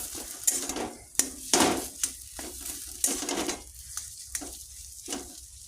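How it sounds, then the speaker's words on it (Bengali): Potatoes being sautéed in a pan for aloo chop: a soft sizzle under several scraping stirs of a spatula against the pan, close by, in uneven bursts with quiet gaps, no talking. "আমি কিন্তু কষাবো বেশিক্ষণ কষাতে লাগবে না দু তিন মিনিট"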